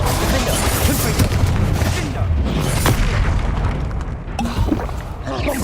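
A Confringo spell blast in Hogwarts Legacy bursts with a loud, booming detonation. Crackling debris and rumble follow, and the noise stays dense and close throughout.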